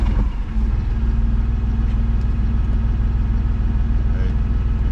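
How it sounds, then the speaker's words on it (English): A tractor engine runs at a steady, loud, low-pitched idle close by, its even throb continuing without pause after a brief unsettled moment at the start. "So we have to start the tractor engine."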